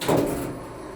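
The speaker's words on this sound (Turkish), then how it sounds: "Kapı kapalı. Kapanıyor. Doors closing." Otis Gen2 elevator doors, a 2010 model in a large Istanbul shopping mall, slide shut in one smooth close, with a broad whoosh that fades after the first half second into a steady low hum.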